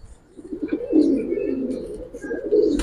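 A pigeon cooing close by in a steady, low, rolling call that swells and holds for a few seconds, clear and fairly loud, with no voices over it.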